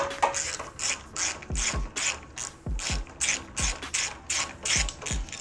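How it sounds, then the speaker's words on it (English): A ratchet wrench loosening 12 mm nuts on a Hyundai Veloster crash bar, giving rapid, crisp clicking bursts in repeated back-and-forth strokes, close and loud with short gaps between swings. "It's going to be removing the four 12 millimeter nuts that hold the crash bar"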